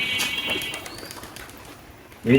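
Pigeons cooing nearby, a soft low coo early on and a louder throaty coo rising at the very end, with faint bird chirps and background noise between.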